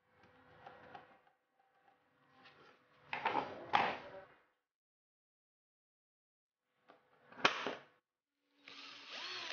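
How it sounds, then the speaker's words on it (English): Several short bursts of a power drill boring a 6 mm hole, separated by silent gaps, close and fairly loud, each rising and stopping abruptly. "Then, drill the mark using drill bit 6 mm."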